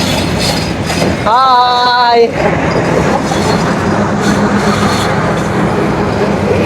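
Chitra Express intercity train on the Dhaka–Khulna route departing Ibrahimabad railway station: a loud steady rumble of the moving train with a sharp, tonal squeal or horn blast lasting about a second early on, while a person talks.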